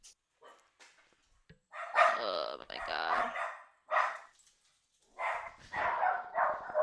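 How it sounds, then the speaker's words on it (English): Several dogs bark and yip in short, loud bursts at a moderate distance, with pauses between volleys and a person briefly exclaiming over them. "Those dogs."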